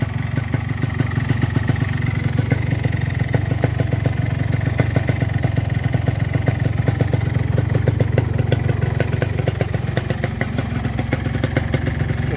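Yamaha RX King two-stroke motorcycle engine running steadily up close, a loud, continuous rattling exhaust with fast regular pulses and a slight rev rise partway through, heard alone without talk.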